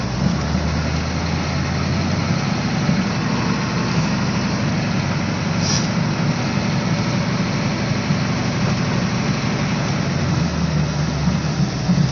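A 1986 Ford F250 with a 6.9 IDI diesel, revived after sitting seven years, idles steadily with a dense, loud, continuous clatter and low rumble, close by and uninterrupted.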